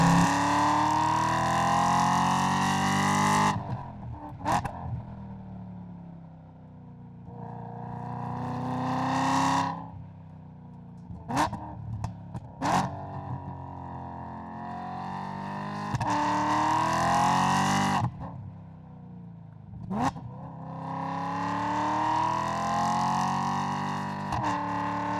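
A BMW E92 M3 engine revs high while driving, rising repeatedly through the gears with sharp pops and brief drops between shifts, loud and close, with no talking.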